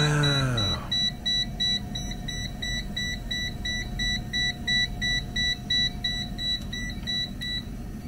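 A Toptes PT-520B+ combustible gas leak detector sounds its alarm: a rapid run of high, regular electronic beeps repeating steadily for several seconds, close and clear, after a brief whoosh at the start.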